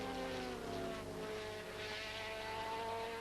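Jaguar sports prototype race cars at Le Mans in the 1980s, a steady sustained engine drone held at high revs, moderately distant and continuous with no voices.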